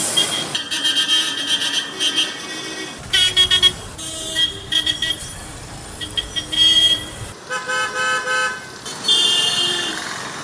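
Loud private bus air horns blare repeatedly in busy traffic on a Kerala road, several harsh honks overlapping with engine and street noise, no talking.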